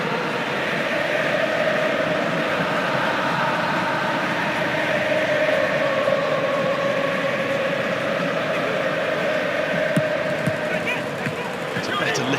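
A football stadium crowd at the Argentina vs France 2022 World Cup match in Qatar, a dense, constant roar of thousands of fans holding high and swelling slightly, with a commentator talking over it.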